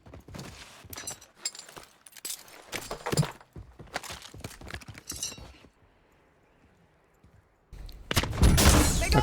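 Rapid bursts of sharp, loud gunfire and metallic clinks in Call of Duty: Warzone, a quiet lull, then a heavy roaring blast at the end.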